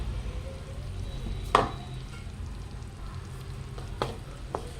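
Wheat flour roasting in ghee in a pan over low to medium heat for methi laddu gives a faint, steady sizzle, with a few sharp scrape or clink accents from stirring.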